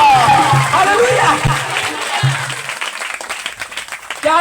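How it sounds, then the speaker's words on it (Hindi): A church congregation bursts into clapping and applause, loud and close at first, then thinning into scattered claps mixed with murmured voices and crowd babble. "ताली बजाएंगे।"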